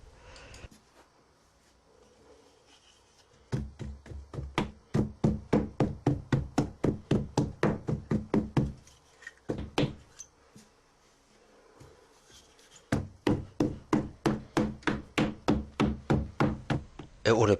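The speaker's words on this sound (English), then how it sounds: "It would appear that I'm hitting the sand fairly hard. Well, I am, but it's a very lightweight rammer with a big head on." Hand rammer with a lightweight shaft and big head compacting bentonite moulding sand in a casting box for a sand-casting mould: two long runs of rapid, evenly spaced thuds close by, separated by a short pause.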